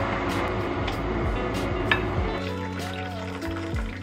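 Water is poured to brew green tea, a close splashing, trickling stream that shifts in tone as the vessel fills, with a few small clinks.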